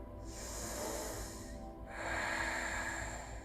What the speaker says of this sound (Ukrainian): І вдих.